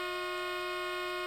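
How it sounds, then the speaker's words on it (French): Locomotive horn in the Train Simulator 2021 video game, one steady sustained tone held for over a second, loud and alone with no talk. "Klaxon"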